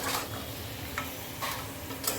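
Salted country chicken is stirred in a pot, a short stretch of soft sizzling with a few quick scraping strokes of the spoon.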